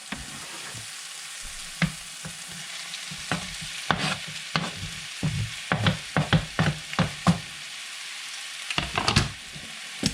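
Bacon cooking slowly in a pan with translucent, caramelizing onions to render the fat. A low sizzle runs under repeated scraping and stirring knocks that come in uneven bursts, close by, with no voices.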